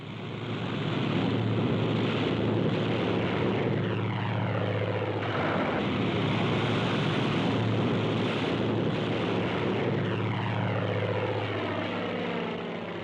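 WWII propeller warplanes take off from a carrier in heavy seas for a raid on Iwo Jima. Loud, continuous engine drone rises and falls in pitch as the aircraft pass close by, with no voices.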